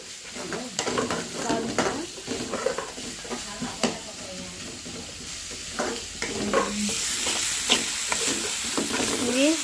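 Onions frying in oil in a pan for a chapati onion curry, a steady loud sizzle broken by repeated scraping stirs, close by, with no talking.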